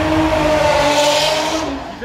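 A Subaru fitted with a V8 roars loudly at a drift meet, its engine note holding steady then dropping off, with tire noise and crowd sound around it.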